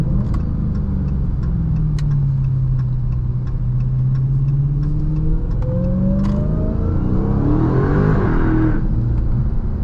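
A Dodge Charger Hellcat Widebody with a supercharged engine and paddle-shifted transmission pulls hard, its low engine note climbing in pitch, dropping at a gear change and climbing again, loud and close, with a rising whine near the end.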